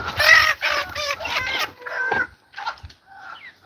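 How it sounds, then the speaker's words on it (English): Chickens let loose outdoors cluck in a quick run of close, loud calls, then a few scattered softer clucks follow with short pauses between them. "I don't mind chickens being out, I just don't want them getting cement on them."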